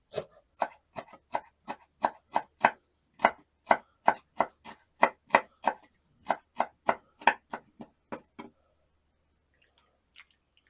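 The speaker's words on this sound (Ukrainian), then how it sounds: "Дрібно нарізати цибулю і вже при подачі посипати." A knife chops an onion rapidly on a cutting board, about two dozen crisp, evenly spaced strikes, then stops, leaving near silence.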